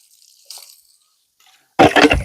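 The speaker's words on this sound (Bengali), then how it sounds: "একটু পানি দিয়ে দেবো।" Water splashes briefly over freshly boiled pasta being strained in a village kitchen, a short loud gush after a few faint clinks and quiet moments.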